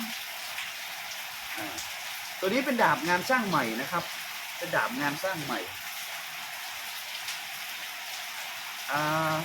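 Steady rain pours down outdoors as a continuous hiss throughout, with someone speaking Thai over it at intervals.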